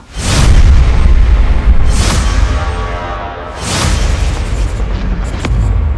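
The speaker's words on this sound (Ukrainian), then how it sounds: "Потужний вибух пролунав біля будинку номер 9" A deep, heavy explosion booms loudly near a residential building, followed by rumbling roars that swell and fade over several seconds, with no voices.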